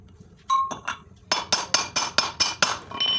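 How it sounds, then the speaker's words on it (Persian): A hammer drives a wheel bearing into a rear wheel hub through a metal rod: about eight sharp, ringing metallic strikes in a steady rhythm, loud and close, after a couple of lighter taps. "با یه میله یا هر چیزی میزنیم و چکشو میزنیم یکم جا آوریم"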